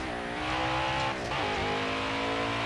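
Race car engine from the NASCAR Heat 5 video game, a loud sustained high-revving drone that holds steady, dips briefly in the middle, then climbs again, with a hint of tire squeal.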